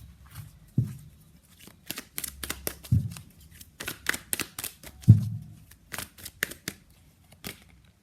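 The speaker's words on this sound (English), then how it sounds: "let's pull some cards from universe where this connection is headed in near future" Tarot cards are shuffled by hand in quick papery riffles and soft slaps, several bursts with short pauses, close and quiet with no talk.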